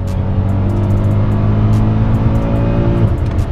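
A Mercedes-Benz E63 AMG engine roars loudly and steadily as it accelerates hard, a deep sustained drone heard from inside the cabin.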